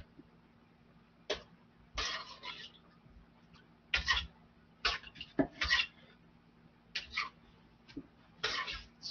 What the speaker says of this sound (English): All right, so I'm dicing the cucumbers